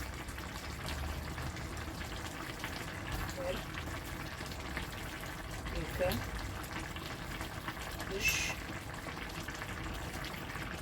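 A pot of eggplant caviar simmers with salt and sugar added, giving a low, continuous bubbling hiss, with a faint voice in the background.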